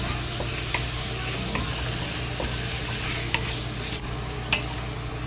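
Ground beef fries slowly in oil with a steady, close sizzle and faint scraping stirs, alone and unbroken throughout.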